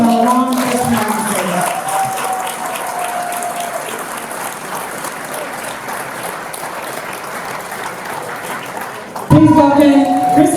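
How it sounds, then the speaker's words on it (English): Sustained applause from a gala audience honoring veterans and first responders at an awards ceremony, broad dense clapping filling the room for several seconds, with talk over the start and end. "Please raise your hands and clap for all of our veterans and our long veterans"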